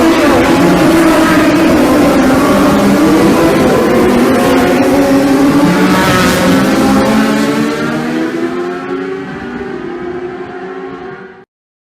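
Racing motorcycles roar off the line at the start of the 2018 Post-TT Southern 100 road race, a loud, dense wail of high-revving engines with rising pitch sweeps that fades away as the bikes pull off into the distance.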